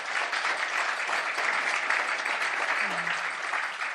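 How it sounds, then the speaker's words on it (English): An audience claps through a book-themed speech at the New York Public Library, with steady dense applause that fills the whole stretch at an even, fairly loud level. "y'all can clap"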